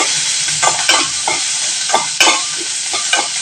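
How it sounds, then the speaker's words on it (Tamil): Onions sautéing in a pan for a vegetable mango kuzhambu, a bright continuous sizzle with several distinct stirring scrapes at irregular intervals, close and fairly loud, no voices. "இப்போ வெங்காயம் நல்லா வதக்கிட்டுங்க"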